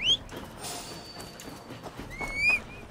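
A horse's hooves clip-clop in quick rhythm in the video game Assassin's Creed Valhalla, with high whinnies at the start and near the end, moderately loud and close.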